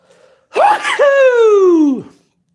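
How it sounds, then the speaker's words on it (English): A single loud sneeze up close: a sharp breathy intake followed by a long voiced, falling burst. "Oh, I'm going to sneeze."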